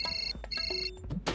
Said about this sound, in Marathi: आवाज कमी कर, अंजलीबाईंचा फोन आहे.